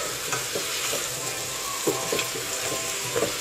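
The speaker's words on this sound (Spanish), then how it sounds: "Pongo a calentar el aceite, agrego todas las verduras" Vegetables sizzle in hot olive oil for pickled chiles, a steady close frying hiss broken by several soft scraping stirs, with no voices.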